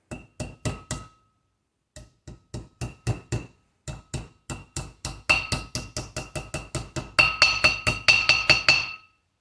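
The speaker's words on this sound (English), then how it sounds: "So I got a hammer. Just give it a little tap. Get it seated in there." A hammer taps a bearing race into place on a 1991 Chevy S10's front brakes in quick bursts, sharp ringing metal strikes that grow louder and more rapid toward the end, with no talking.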